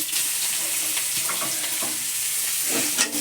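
Onion sizzling and frying in hot tempering oil with dried red chillies and whole cumin, a steady close crackle with faint stirring scrapes throughout, no voices.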